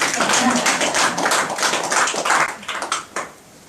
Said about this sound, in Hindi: ये बात अगर समझ में आई हो तो ताली बजाए बगैर रह नहीं पाओगे